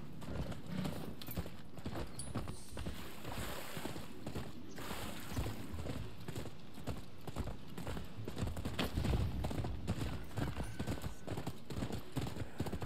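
Hooves clip-clop steadily as a horse trots in the Japanese-set video game Rise of the Ronin, a continuous rhythmic beat over low ambient game sound with a brief whinny.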